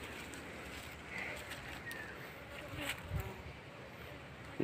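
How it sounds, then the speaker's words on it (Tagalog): Angry bees swarm in a steady, faint buzzing drone that fills the whole stretch, heard from a distance against outdoor background noise. "naatake na po tayo ng mga bubuyog"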